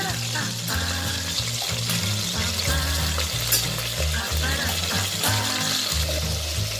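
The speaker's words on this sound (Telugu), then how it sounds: "ఆ నూనెలో మొత్తం కలిపేసుకున్నాము కూరంతా కొంచెం లైట్గా వేగితే చాలు" Greens curry with dried fish frying in oil, a steady sizzle under stirring, with strong low tonal hum or music running throughout and loud from start to end.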